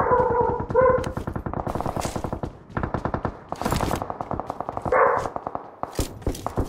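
Bursts of rapid automatic gunfire from the mobile battle royale game PUBG Mobile crackle in short volleys and single shots, loud and close, spread across several seconds with brief gaps.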